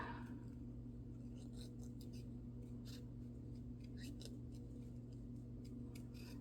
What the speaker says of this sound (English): Easiest way to do fussy cutting is to hold your scissors still and move your paper.